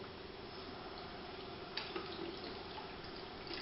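Lotus root rinsed under a running kitchen tap, with a faint continuous stream of water and a few soft knocks and splashes as the root is handled.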